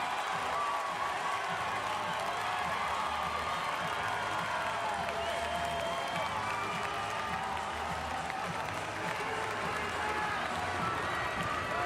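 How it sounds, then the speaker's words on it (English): Crowd at a London 2012 Paralympic men's wheelchair basketball quarter-final between Turkey and Great Britain, a steady wash of cheering, clapping and chatter filling the arena for the whole stretch. "And the crowd doing their best to get behind Great Britain."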